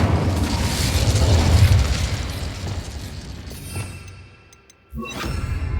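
A fiery Incendio spell blast in Hogwarts Legacy roars loud and broadband through the first few seconds, then fades to a low rumble and near silence before a sharp burst of crackling resumes near the end.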